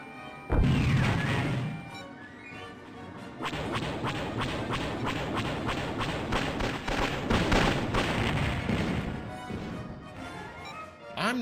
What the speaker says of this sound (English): Let's go fire linked missiles for our first